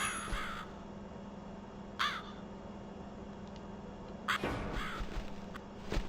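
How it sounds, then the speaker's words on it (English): A crow in the video game The Cat Lady gives harsh caws, one near the start, another around two seconds and a louder pair later, over a dim steady hum. "You're here with the crow."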